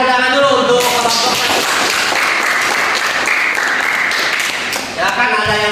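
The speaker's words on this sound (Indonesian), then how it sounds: "Silakan ada tepuk tangan dulu untuk kelompok" Steady, loud applause fills a classroom for a presenting student group. Dense clapping carries on without pause for several seconds.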